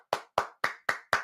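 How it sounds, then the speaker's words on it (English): Five crisp, close hand claps in an even, unhurried rhythm, each a sharp slap with a short decay and silence between. "Right off the bat, nice clap."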